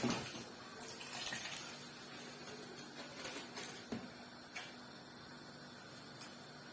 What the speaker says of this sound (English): Now we put the rice in.